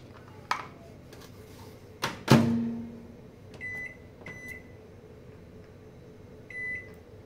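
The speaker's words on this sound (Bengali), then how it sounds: "মাইক্রোওয়েভে অন করতে হবে।" A home microwave oven is shut and started: a few clicks, a solid door thump, then several short electronic beeps spaced apart as it is set, over a faint low hum in a quiet kitchen.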